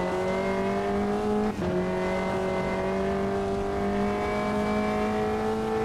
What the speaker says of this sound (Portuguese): o som do carro, ele dá uns pipoco